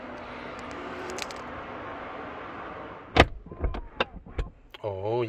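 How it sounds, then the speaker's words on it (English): Rolls-Royce Ghost door closing by button, a steady low motor hum under faint noise followed by a sharp thud as the door shuts, then clicks and a voice speaking. "I can close the door with buttons"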